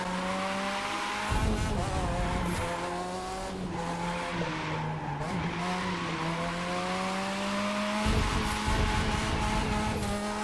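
A car drifts through a long curve in the racing game The Crew 2, its tires squealing steadily in rising and falling pitch over a loud engine, with short bursts of extra screech.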